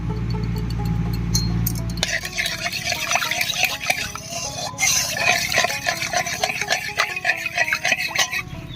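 Powdered milk is stirred into milk in a pot, giving a steady run of soft liquid swishes and light scraping taps after a low hum in the first two seconds.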